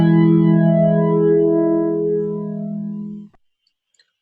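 A larger neural network emulating an audio effect pedal plays a single distorted, harmonically rich tone. The tone sustains, fades over about three seconds and then cuts off into silence.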